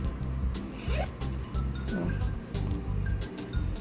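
A zipper on a handmade phone wallet with a plastic window being pulled closed, a series of quick, close rasping zips with short pauses between strokes.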